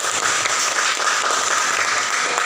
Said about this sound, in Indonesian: Oke, tepuk tangan untuk kita semua dulu.